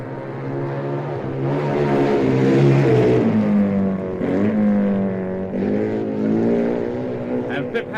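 BMW racing motorcycles roaring past at the Isle of Man TT, a loud engine note rising and falling as they rush by, with a commentator talking over the noise.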